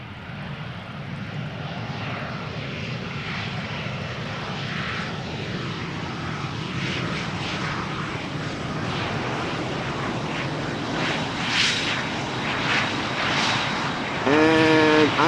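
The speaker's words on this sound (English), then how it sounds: "It's a CRJ 900ER" A 15-year-old Bombardier CRJ900ER regional jet arriving at Amsterdam Schiphol Airport gives a steady, broad engine roar that holds for the whole stretch and grows louder toward the end, with no voices.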